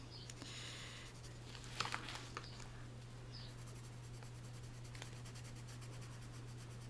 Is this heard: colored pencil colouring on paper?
yes